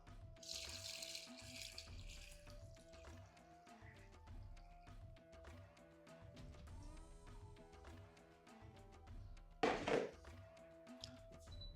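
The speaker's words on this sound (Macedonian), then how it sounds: "Сега додавам 3 литри вода." Three litres of water gush and splash as they are poured into a pot for boza, with occasional clunks and a faint steady hum in a quiet room.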